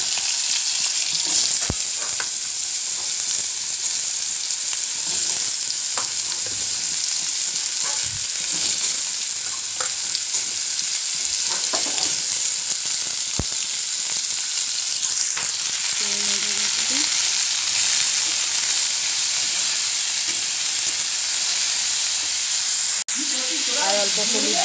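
Potatoes sizzle and fry steadily in hot oil with black cumin seeds, a constant bright crackle with occasional stirring clatter and a sharp scrape near the end.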